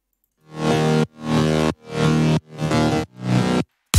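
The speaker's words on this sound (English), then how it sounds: "For the mid bass, I use a bass guitar and a vital" Mid bass layered from a bass guitar and a Vital synth, five separate sustained notes with gaps between them, full and buzzy, played alone at moderate level.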